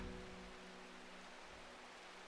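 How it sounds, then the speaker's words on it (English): Steady rain falls in the video game Strange Horticulture, a soft, even wash of continuous patter heard faintly throughout with no voices. "Why does it need to still be raining today?"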